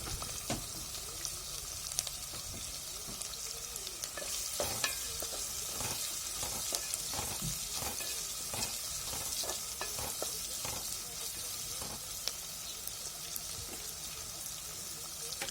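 Onions and green chillies sautéing in a pan for a Tamil fish curry: a steady sizzle of frying with frequent scraping taps of a spoon stirring, close and continuous throughout.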